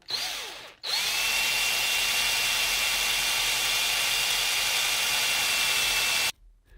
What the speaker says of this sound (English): So now I've got the pilot hole drilled.